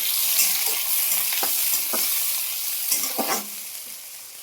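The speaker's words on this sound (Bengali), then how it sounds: "ফোড়নটা ভাজা হয়ে গেছে, এবার দিয়ে দিচ্ছি পেঁয়াজ কুচি" Chopped onion dropped into hot oil already tempered with cumin, dried chilli and bay leaf, frying with a steady sizzle and a few scrapes of stirring, close and fairly soft, no talk.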